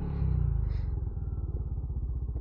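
A motorcycle engine thumps in a fast, regular putter as it climbs uphill toward Mount Timbak, close and fairly quiet, with a brief swell in revs near the start and no talking.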